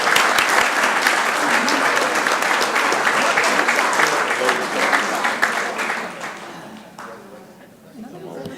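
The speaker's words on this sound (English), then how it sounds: "Let's give them another round of applause." Applause at a city council meeting for a proclamation, sustained clapping from the room with some chatter mixed in, tapering off toward the end.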